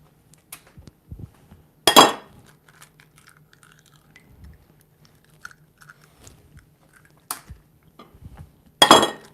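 Eggs cracked against a bowl edge while preparing an egg wash in a home kitchen, two sharp close cracks several seconds apart among small clinks and handling noises.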